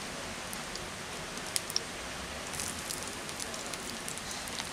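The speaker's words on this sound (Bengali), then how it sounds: "তেলটা ভালোভাবে গরম হয়ে গেছে, এখন আমি পটলগুলোকে বাদামি করে ভেজে নেব।" Pointed gourd slices frying in hot refined oil in a pan, giving a steady, soft crackling sizzle with a few sharp pops and no voices.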